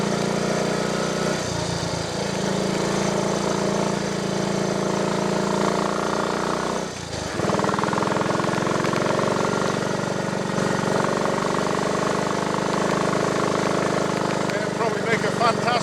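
A 1958 Triumph Tiger Cub motorcycle engine idles steadily up close, a continuous mid-pitched putter with a brief dip partway through, while people talk over it.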